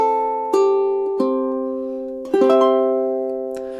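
Ukulele strums the final two measures of a pretty three-chord progression: four separate strummed chords, each ringing out and decaying, clear and close with no talking.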